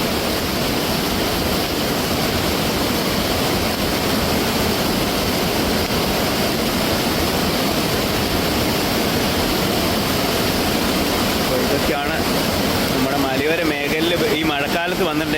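Loud, steady roar of a mountain flash flood's rushing water filling the whole clip, broadband and unbroken, with a voice briefly audible near the end.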